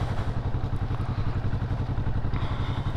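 A Kawasaki Vulcan S motorcycle runs close by at a fair, its engine giving a loud, steady, throbbing pulse of rapid even beats for the whole stretch.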